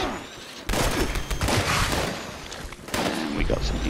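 Video-game gunfire from a Pepper Shaker or Gatling Plasma in Fallout 76 rattles in dense, loud bursts with short pauses between them.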